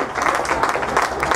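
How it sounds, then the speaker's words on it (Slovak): An audience at an American football game between the Zilina Warriors and Cassovia Steelers applauds in a steady, dense patter of clapping, fairly loud and continuous with no break. "Tak podporme našich chlapcov potleskom, pretože naozaj si to zaslúžia."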